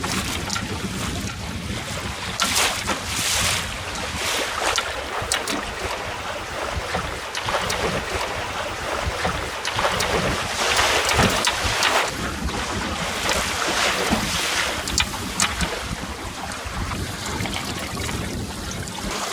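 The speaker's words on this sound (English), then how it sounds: "There's a few strong gusts here." Strong wind gusting across a dam while sailing, buffeting the microphone with loud uneven roaring surges over splashing water throughout.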